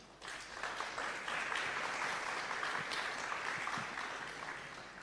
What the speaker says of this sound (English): please take a moment to applaud our sponsors